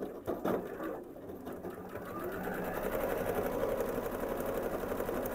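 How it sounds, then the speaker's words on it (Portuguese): A sewing machine stitches fabric lining in a steady, fast mechanical whir that runs continuously and grows slightly louder midway, close and alone with no talking. "Então, venho costurando."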